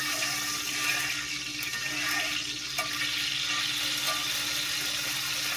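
Grated potatoes for hash browns and watery margarine sizzle in a hot iron skillet on a stovetop burner, a steady close hiss broken by scattered small pops and spits.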